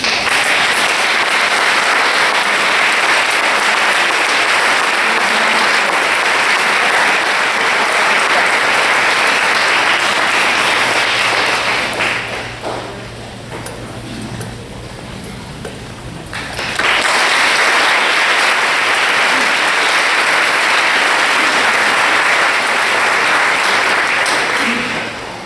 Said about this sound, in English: please hold your applause until all the names have been read